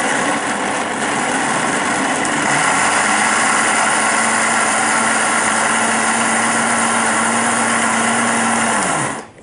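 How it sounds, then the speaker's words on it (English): A Waring soup maker blends sautéed onions and garlic with a loud, steady motor whir and churning, holding one pitch for several seconds and then winding down abruptly at the end, with no voices. "All we're going to do now is just blitz this up."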